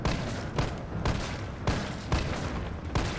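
Pistol shots in Resident Evil 3: a steady run of loud, sharp reports about every half second, close and punchy over continuous game noise.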